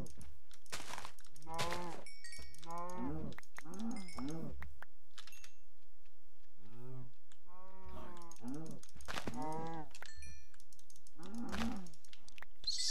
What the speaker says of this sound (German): Hier sind Kühe. Aber die sind viel zu weit weg, darum schlachte ich sie jetzt.